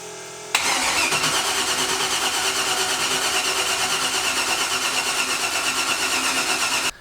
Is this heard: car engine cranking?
yes